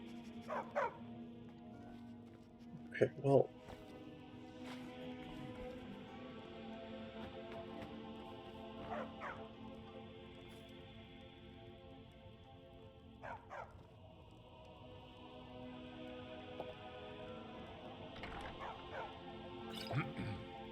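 A dog in the game Skyrim barks in short yips and whimpers, mostly soft against a steady ambient hum, with brief louder yelps and a little speech.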